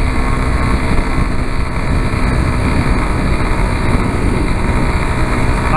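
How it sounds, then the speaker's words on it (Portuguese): Constant loud roar of strong wind buffeting a moving vehicle on a highway, mixed with engine drone, unbroken throughout with no talking. "tá muito vento hoje"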